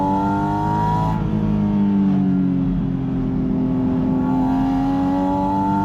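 A Porsche Spyder RS engine revs steadily on a hill climb, its pitch holding high near 6,000 RPM with a brief easing then rising again, loud and close throughout with no talk.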